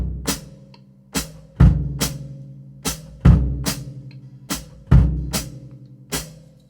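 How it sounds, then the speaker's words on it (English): Kick drum pattern with hi-hats added on beats 2 and 4, from someone teaching themselves drums: a steady, close, dry groove of punchy low kicks and crisp cymbal ticks, with no talking. "here's how the kick drum sounds with the hi-hats on 2 and 4"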